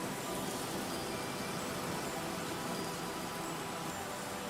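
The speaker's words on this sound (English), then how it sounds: "it sounds like the scratch audio used, or like your in-camera audio used of the rain underneath this underpass" Rain falling beneath a road underpass, captured by an in-camera microphone, a steady dense hiss with no pauses and no voices.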